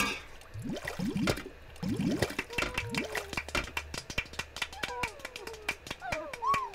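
Dishes dropped into bubbly water in the Toca Tea Party iPad app make cartoonish plops, splashes and trickles in an uneven sequence, with a voice talking over them.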